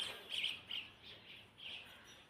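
Several high, bright parrot chirps repeat in short bursts, moderately near, against a quiet background with no talk.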